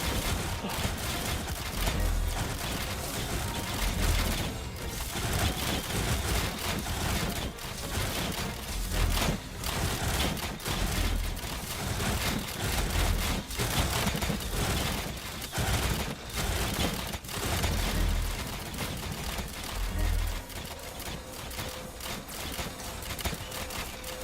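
Dense volleys of rapid gunfire from many turrets in The Slormancer, a steady rattling barrage with sharp cracks that goes on for the whole stretch at close range, with no talk.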